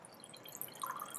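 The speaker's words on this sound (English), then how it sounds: "we dump the water" Water poured from a graduated cylinder into a beaker in a lab, a faint close trickle with small splashy drips, quiet and brief, no voices.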